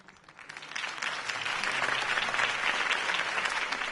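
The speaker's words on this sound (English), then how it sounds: "could have heard that applause" A crowd in Batman: The Telltale Series bursts into applause after a campaign speech for Harvey Dent, rising from a scattered start into steady, dense clapping that holds for several seconds.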